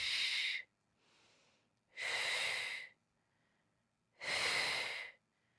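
A Pilates instructor exhales forcefully through the mouth three times, each long breath close and loud, separated by quiet pauses and a faint softer breath.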